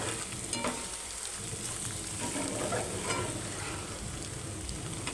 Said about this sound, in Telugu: ధనియాల పౌడర్ 1 టీ స్పూన్ వేసి మంచిగా కలుపుకోవాలి.